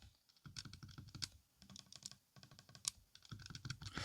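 Buttons on a Powkiddy V90S retro handheld game console are pressed in quick, quiet clicks. The presses come in irregular bursts, close up, with no speech.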